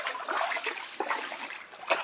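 Water from a motor pump gushes forcefully into a household storage tank, a continuous loud splashing rush with brief surges and no talking.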